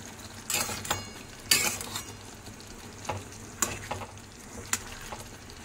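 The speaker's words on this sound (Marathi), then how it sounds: "जे आपण लॉलीपॉप बनवून घेतले होते ते त्याच्यामध्ये ठेवून देऊया आणि छान ग्रेव्ही सोबत आपण मिक्स करून घेऊया" Fried veg lollipops are stirred into a thick gravy in a pan. Scraping, bumping stir strokes come at irregular intervals over a steady low sizzle, with no one talking.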